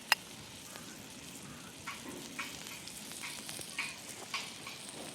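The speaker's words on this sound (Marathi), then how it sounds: "मसाला सगळं तळून घेतलं" Homemade garam masala and other spices fry in a pan for a goat mutton curry, a soft steady sizzle with occasional light stirring scrapes and clicks, close and fairly quiet.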